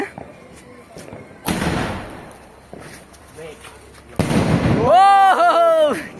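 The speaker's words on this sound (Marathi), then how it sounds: "तुम्ही बघू शकते आपले फटाके" Sharp Diwali firecracker bangs burst out twice amid background chatter, followed by a shrill whistling, crackling volley near the end.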